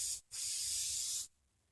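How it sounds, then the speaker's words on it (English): A single aerosol burst of Fluid Film onto exposed steel vise threads makes a close, bright hiss lasting about a second, with a brief break near the start, then fading into quiet room tone. "now I'm just going to spray some fluid film on the rest of this exposed threads here"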